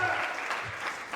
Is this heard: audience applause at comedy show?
yes